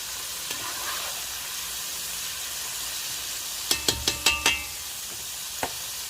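Fish frying in a pan at a fish fry, with a steady background sizzle. A quick cluster of sharp utensil clanks comes from the stirring partway through, and a single click follows later.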